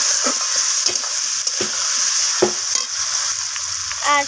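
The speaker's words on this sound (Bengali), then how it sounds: "তো এরপর সমস্ত কিছু মশলা এইভাবে আলুর সাথে কষিয়ে নিচ্ছি" Potatoes sautéed with ground spices in a pan, a loud continuous sizzle broken by repeated scraping strokes of a spatula stirring the mix, with no one talking.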